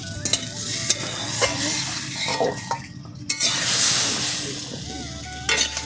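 Kohlrabi frying in a pan, a close, bright sizzle broken up by frequent scraping and knocking of a spatula as pieces are stirred and lifted out.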